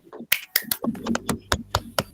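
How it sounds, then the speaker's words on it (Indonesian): A few people clap in a classroom for a student group: sparse, sharp, uneven claps close by, roughly a handful per second, with faint voices in between. "Silakan berikan tepuk tangan untuk kelompok 3."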